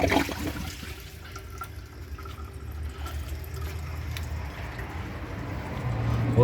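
A Jacuzzi Perfecta toilet, a 2009 model under a flush test, flushes with a steady rushing and gurgling swirl of water that holds at an even level for several seconds.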